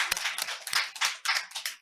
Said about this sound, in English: So can we please give Mr. Tonelli and Tina a round of applause